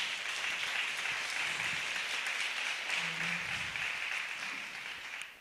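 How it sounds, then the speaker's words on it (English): Conference audience clapping for their leaders at an international event, a steady dense wash of applause from a full room that holds evenly before tapering slightly at the end. "Can we give a clap to our leaders?"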